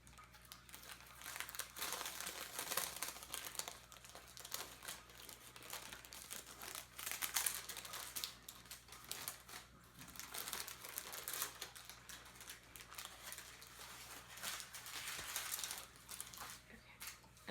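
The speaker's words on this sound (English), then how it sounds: "And then you're gonna carefully peel off the parchment paper." Parchment paper peeled slowly off a rolled sponge cake in a home kitchen, a soft continuous crinkling and tearing rustle with faint background hum, no talk.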